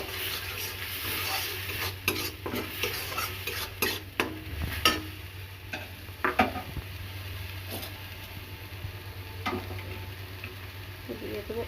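Onions already fried, now sautéed in a pan with ginger, turmeric and chilli powder, giving a steady low sizzle with repeated scraping and stirring clicks of a spoon against the pan throughout.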